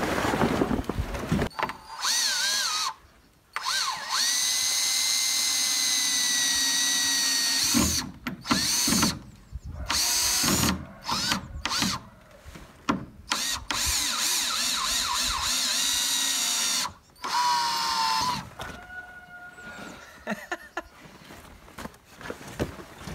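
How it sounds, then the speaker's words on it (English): A power drill drives 120 mm screws through a board and tarp while building a temporary cow shelter outdoors, giving several loud whirring bursts of varying length separated by short pauses, close by. "we are going to screw those 120 millimeter long screws through this board, through the tarp, and pull it all against here"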